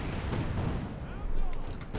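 Artillery shells boom and crackle in the real-time strategy game Company of Heroes 2 during a 1v1 match, a dense rumbling barrage of overlapping blasts, with someone commentator talking over it.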